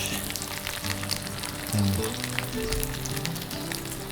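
Wagyu beef searing in a hot pan, a steady close sizzle and crackle of fat throughout, with a brief word spoken over it.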